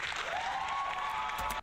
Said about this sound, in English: And an applause button.